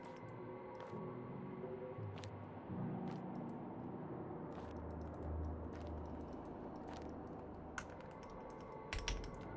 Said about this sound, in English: I'm clicking, nothing happening.